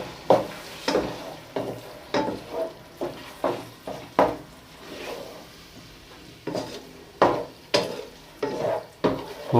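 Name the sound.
mixing boiled spinach into fried masala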